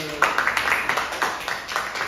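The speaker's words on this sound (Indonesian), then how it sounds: "Baik, tepuk tangan." Classroom group of students clapping in a group counselling session, a fairly faint, uneven patter of hands with a few sharper claps, with voices mixed in.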